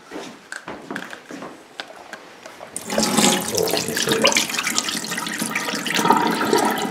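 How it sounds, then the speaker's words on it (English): Dark brown dye water from dyeing Easter eggs is poured out of a pot into a sink, a sudden gushing splash and rush of liquid that follows a few quiet clinks and continues loudly to the end. "Just going to get rid of the water first."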